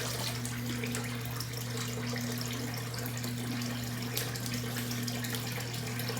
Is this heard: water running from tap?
yes